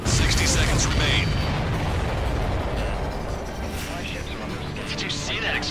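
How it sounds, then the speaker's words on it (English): Large explosion of a supply ship in the combat flight game Ace Combat 7, a loud sustained rumbling blast that fills the whole stretch with roaring noise and slowly settles. "Did you see that explosion? Looks like that's one of them down."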